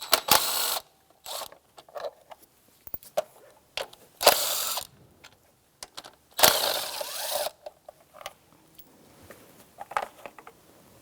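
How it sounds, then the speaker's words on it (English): A hand ratchet with a 10mm socket loosens cover nuts over the ignition coils on a 2003-2007 Honda Accord 2.4L, giving quick clicking bursts separated by pauses, close and fairly loud. "we're going to take these 4 nuts off, and it's a 10mm socket"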